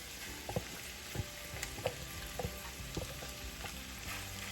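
Rice tipped into a pan of sizzling, browned vegetables gives a quiet, steady frying hiss with a few soft stirring clicks and scrapes scattered through it.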